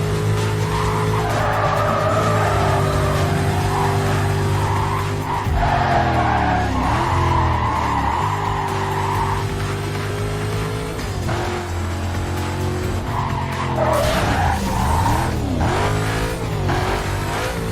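Race cars in the Need For Speed Carbon video game screech their tires through drifting turns while engines rev and roar, loud and continuous throughout.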